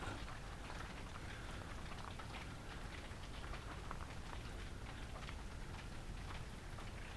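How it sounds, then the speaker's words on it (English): Steady rain falls continuously with dense, hissing patter, fairly soft and unbroken throughout. "A rainy, stormy day."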